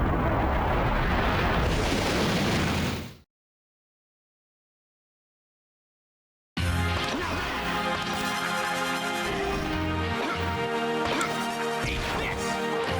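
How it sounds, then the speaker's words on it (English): Explosions in the video game Mega Man Maverick Hunter X. A dense roaring burst cuts to silence, then loud booming blasts return over driving game music. "Explosion is beautiful."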